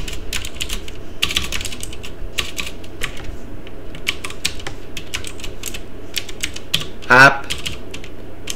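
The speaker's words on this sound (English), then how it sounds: "I'm gonna type Flatpak search" Fast typing on a computer keyboard, a close, steady patter of key clicks in short bursts, with a brief spoken word partway through.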